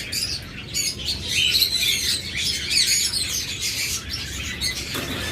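Pet birds such as lovebirds, budgerigars and cockatiels chirp and tweet continuously in a dense, overlapping chatter, close and fairly loud, with occasional wing flutters and no voices.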